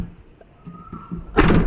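A sliding door on a 2017 Toyota Commuter van rolls shut and lands with a single loud, close thud after a quiet stretch of faint rolling.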